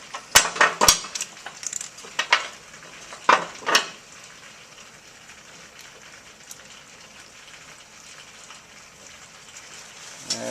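A Ferrari 348 gearbox seal cover is bolted back on: a few sharp metallic clicks and taps from tools and bolts come early, close up, then the work fades to a quiet background hum.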